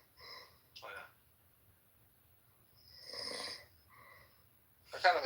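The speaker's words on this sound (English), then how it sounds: "I kind of enjoy listening to him snore." A man snoring, several separate breathy snores spread over a few seconds, fairly faint and close-up, with no talking over them.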